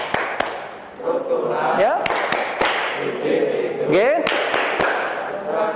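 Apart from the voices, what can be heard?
class clapping rhythm for social mobility drivers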